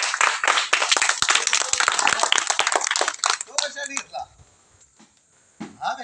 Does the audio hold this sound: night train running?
no